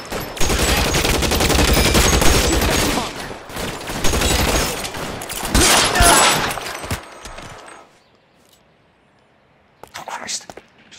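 Rapid bursts of gunfire in the video game L.A. Noire, loud and continuous for several seconds before cutting to near silence, then one brief final burst near the end.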